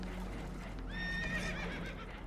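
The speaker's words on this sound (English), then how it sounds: "Horses are spooked" Spooked horses neighing in Red Dead Redemption 2, a shrill whinny rising over a steady low rumble, with a second shorter neigh close behind, heard nearby above background noise.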